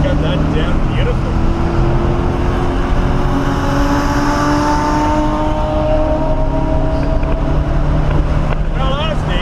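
BMW car engine accelerating hard on a race track at Mosport, a loud steady roar with rising and falling pitch through gear changes, heavy wind rush throughout, and voices talking over it.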